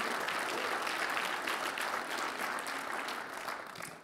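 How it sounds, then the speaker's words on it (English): A church congregation claps in a sustained round of applause, dense and even for several seconds before beginning to thin at the end. "give the Lord a big round of applause."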